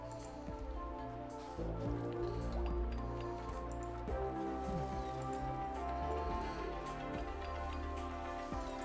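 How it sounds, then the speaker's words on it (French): Toxic torrential rain falls in the colony-building game RimWorld: a steady, close patter of drops and wet splashes continues throughout without voices, under a low sustained musical hum. "Pluie torrentielle toxique, oui, c'est génial."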